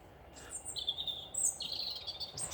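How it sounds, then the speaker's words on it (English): Birds chirp and sing by a river in St Neots on a November day, thin high calls repeating faintly over a quiet outdoor background with no talking. "Love to hear the birds."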